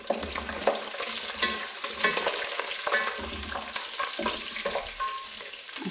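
Chillies sizzling in hot ghee with browned onions in a pot, a steady frying hiss broken by stirring scrapes and clatters from a spoon, close and moderately loud.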